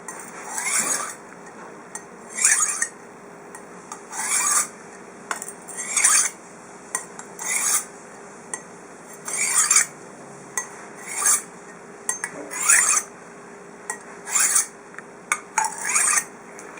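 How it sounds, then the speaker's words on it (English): A kitchen knife drawn at a shallow angle across the unglazed ceramic rim on the underside of a cup, about a dozen separate scraping strokes in a steady rhythm, close and fairly quiet, with short light clinks between them. "the ceramic works really well in order to sharpen the knife"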